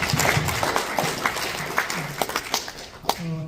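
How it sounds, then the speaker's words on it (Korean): An audience at a Korean-American patriotic association lecture in Philadelphia applauds in a loose, uneven patter of scattered claps, with voices murmuring and a few spoken words over it. "박수 한번 쳐주습니다"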